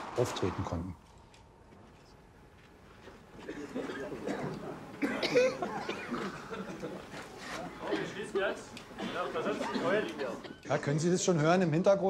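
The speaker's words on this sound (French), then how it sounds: "on entend les spectateurs qui toussent" Coughing from spectators in a poorly ventilated hall scatters through a steady murmur of crowd chatter, with a sharp throat-clearing cough near the start followed by a busy, reverberant room of voices.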